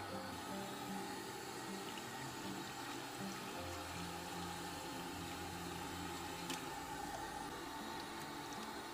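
Water runs steadily while soap suds are rinsed from a synthetic hair wig, a continuous close rushing and splashing with low gurgles, no talking.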